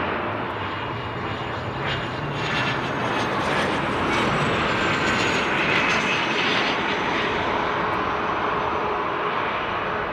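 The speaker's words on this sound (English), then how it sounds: "So we've got to watch what is our bizjet, our Mustang." Cessna Mustang business jet at Leeds Bradford Airport, a loud continuous engine roar that builds slightly and holds steady for several seconds, with faint high whine over the broadband rush.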